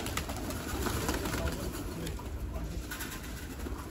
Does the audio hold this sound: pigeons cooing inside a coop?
yes